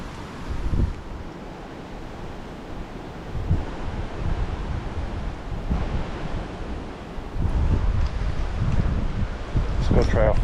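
Blustery wind buffets the microphone beside the water at low tide during ultralight bluegill fishing, with surf-like gusts rising and falling throughout and a faint voice murmuring underneath.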